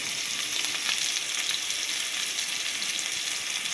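Onion, green chillies and curry leaves fry in a pan with a close, steady, even sizzle that holds unchanged throughout, with no one talking.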